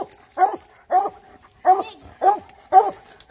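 A coon hunting dog barks in a series of five or six sharp, close woofs at a loose, even pace, with short gaps of quiet between them, during a night raccoon hunt.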